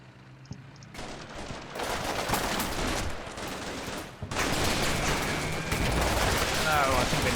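Gunfire from the combat video game Combat Mission Shock Force 2, in an urban battle setting, with dense crackling volleys and bursts that swell after a quiet start and continue loudly to the end, with a few sharper single shots.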